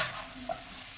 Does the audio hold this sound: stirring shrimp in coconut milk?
yes